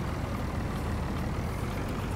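A truck engine in the Farming Simulator 19 video game gives a low, steady rumble, faint and continuous with no talk over it.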